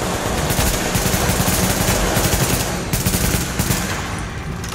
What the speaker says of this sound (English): He has a turret!